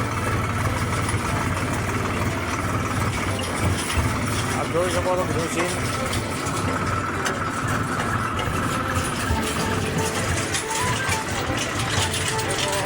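Tractor engine running steadily throughout a ride along a farm road past mustard fields, a continuous mid-pitched rumble with someone talking over it.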